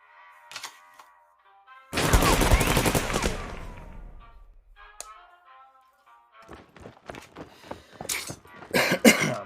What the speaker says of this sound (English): Apologize for all the coughing. I'm still fighting a head cold.